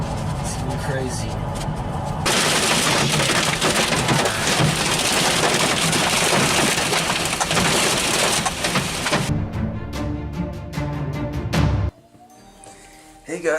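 Hail from a storm pounds on a truck while it drives, a loud dense roar of hard impacts lasting several seconds before cutting off abruptly, with talking heard over it.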